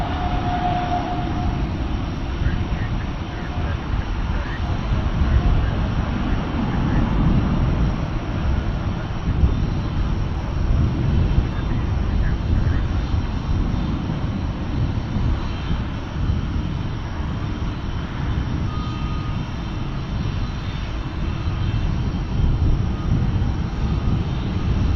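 A Turkish Airlines Boeing 787 Dreamliner takes off from Dallas Fort Worth International Airport, bound for Istanbul. Its engines give a steady, distant roar with a rumbling low end that holds throughout and does not clearly build or fade.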